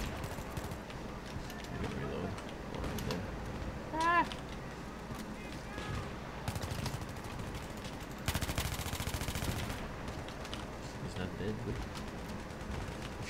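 Bursts of MTAR-21 automatic rifle fire in the video game Battlefield 3 crackle amid a busy mix of battlefield effects, with a heavier sustained burst partway through, all fairly quiet.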